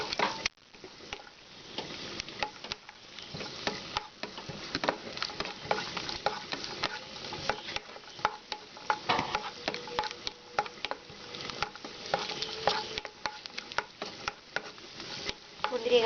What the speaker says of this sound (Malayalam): ഇനി നമുക്ക് കിസ്മിസ് വറുത്തെടുക്കാം. ജസ്റ്റ് ചെറുതായിട്ട് ഫ്രൈ ചെയ്തെടുക്കാം.